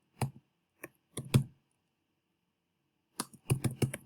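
Bursts of computer keyboard typing while entering a document title, clustered keystrokes near the start, a long pause, then a quicker run of clacks toward the end, close and fairly quiet with no voices.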